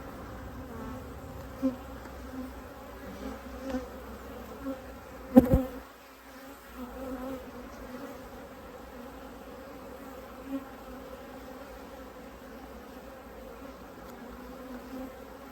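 Honeybees buzz in a steady, close drone throughout an open hive inspection. A single sharp knock breaks through midway, and no one speaks.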